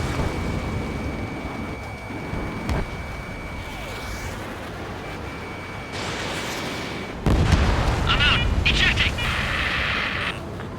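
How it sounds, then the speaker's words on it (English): Incoming missile and explosions in the Ace Combat 7 flight game, with a steady jet-engine roar, a sharp warning tone, then a sudden loud blast and crackling rumble, with voices speaking over it. "Missile. Missile. Missile inbound."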